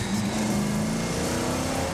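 A muscle car engine rumbles close and loud, holding a steady, throaty drone with a deep pulsing low end throughout.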